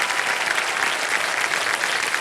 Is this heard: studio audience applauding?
yes